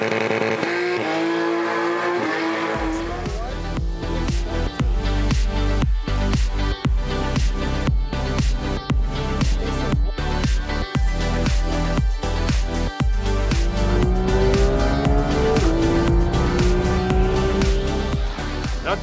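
A race car lapping the Kyalami circuit, its engine loud and close throughout, revving hard up and down through rapid gear changes, with a steady mechanical roar and occasional tire squeal.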